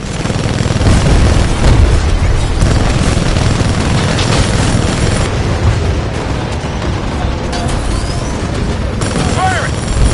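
Weapons fire and heavy booming explosions from the Titanfall 2 video game campaign rumble continuously and loudly, with crackling bursts layered over dense combat noise and voices talking over the action.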